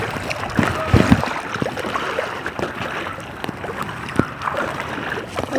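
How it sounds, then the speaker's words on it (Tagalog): Strong sea waves at a rocky shore wash and splash in an uneven surge, with a louder sloshing burst early on and a fairly loud, close watery rush throughout. "Medyo malakas-lakas po ang alon ng dagat."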